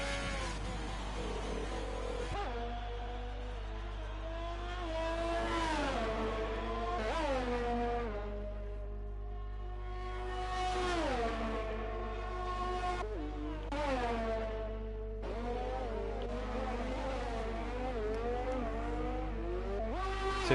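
Race cars lapping the Austria circuit in a sim racing game: engines rising and falling through gear changes as cars sweep past, steady and close throughout, with no talking.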